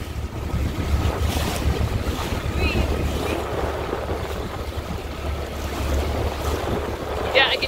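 Turbulent water rushes and churns steadily close by in Canadian tidal rapids before slack tide, mixed with heavy wind buffeting and a deep boat engine rumble, with a faint voice near the end.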